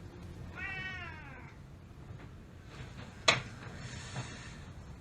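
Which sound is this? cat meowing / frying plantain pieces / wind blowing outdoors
cat meowing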